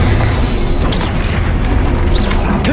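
A Bombarda spell explosion from the Hogwarts Legacy video game booms loudly and continuously through the whole moment, a dense low rumble with a few brief bright crackles and whooshes layered on top.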